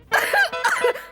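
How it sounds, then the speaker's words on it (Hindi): Two quick, harsh coughs sound close up in a short burst, with no talking. "खांसी आ गई जरा"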